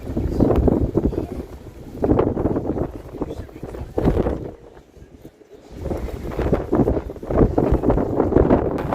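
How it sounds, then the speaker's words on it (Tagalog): Gusty wind buffets the microphone in heavy low rumbling waves in London, dipping briefly midway before surging again. "Mahangin guys, mahangin."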